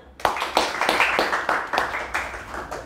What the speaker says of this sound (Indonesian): Tepuk tangan untuk Kayla.